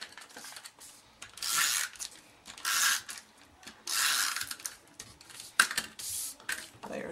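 A snail tape runner applying adhesive to a card layer during card making, a series of short ratcheting clicks and rasping bursts, close and fairly quiet with gaps between strokes.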